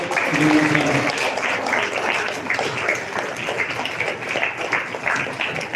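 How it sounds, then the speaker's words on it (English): A congregation at a Catholic Mass applauds their bishop during a ceremony for three sisters' final profession; broad, steady clapping fills the church and continues throughout, with some voices mixed in. "Please clap your hand for our Bishop."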